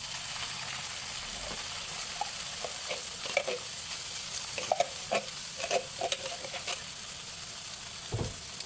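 Corned beef stirred and sautéed in a pan for corned beef guisado, with a steady close sizzle and scattered scraping clinks of a utensil against the pan.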